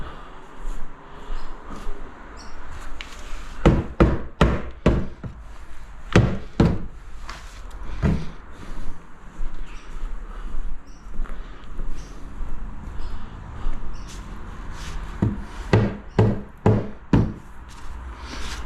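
A rubber hammer taps in quick clusters of sharp, thudding knocks, bursts of four or five blows separated by pauses, over a low background hum.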